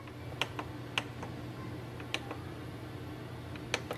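Buttons on an Epson WorkForce WF110 printer's display panel are pressed one by one while a Wi-Fi password is entered, giving faint, sparse clicks at irregular intervals over a low room hum.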